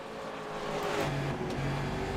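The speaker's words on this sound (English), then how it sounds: "Let's go ahead and ride on board with Dan Denayer in the number 30 car" Onboard NASCAR race car engine from the iRacing sim at Phoenix Raceway, a loud steady drone holding level throughout with a slight rise midway, no talk.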